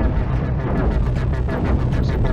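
Ion beam weapons firing in the space game Cosmoteer: a loud, continuous roaring barrage with a rapid pulsing beat, dense and unbroken for the whole stretch.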